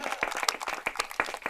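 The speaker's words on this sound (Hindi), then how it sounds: "ताली बजाइए" Clapping from a crowd at a Holi humour-poetry gathering on Varanasi's Assi Ghat, uneven individual hand claps scattered close together in a short, loose burst.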